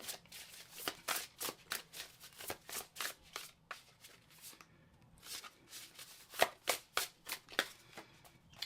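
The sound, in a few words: shuffling tarot cards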